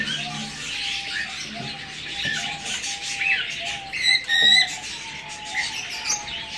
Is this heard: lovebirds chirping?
yes